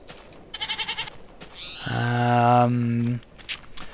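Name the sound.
billy goats bleating in Minecraft, from a video game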